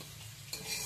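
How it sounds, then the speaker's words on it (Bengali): Ground coriander and cumin powder fry in oil in a pan, a faint sizzle with a brief stirring scrape partway through, no speech. "এবার আমি ভালো করে হালকা ভাজা ভাজা করে নেব যত সময় না তেলটা ছেড়ে দিচ্ছে"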